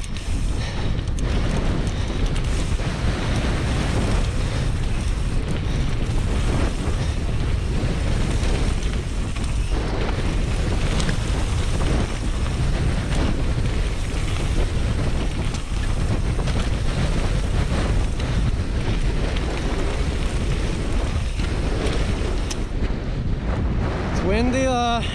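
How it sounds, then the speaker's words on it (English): Strong wind buffets the microphone on an exposed hillside at a mountain bike mass start race course, a loud continuous roar with gusts throughout, and a few brief voices are heard under it. "Oh, it's windy."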